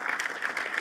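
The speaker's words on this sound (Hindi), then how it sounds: "जोरदार तालियां बजाएं इसके लिए।" Steady applause from an audience, many hands clapping together in a brief, continuous burst at moderate loudness.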